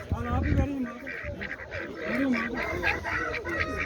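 Ducks, some of them Pekin, at a chicken and poultry market in Çubuk, Ankara, honking and quacking repeatedly nearby while people talk over the din.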